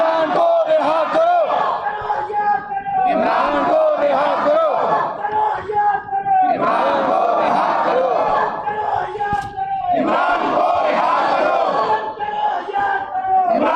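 A large crowd at a rally for a politician's speech chants a rhythmic political slogan demanding Imran's release, loud massed voices rising and falling in repeated phrases over several cycles.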